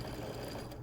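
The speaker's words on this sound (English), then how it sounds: "You must use a sewing machine here." A sewing machine runs steadily, stitching knit binding onto fabric with a lightning stitch, a continuous close mechanical whir filling the whole short stretch with no voices.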